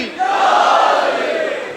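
A crowd at a religious majlis gathering shouts the slogan Nara-e-Haidri in one loud, brief collective cry that swells and then tapers off.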